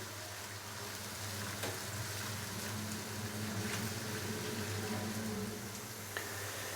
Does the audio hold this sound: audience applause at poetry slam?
no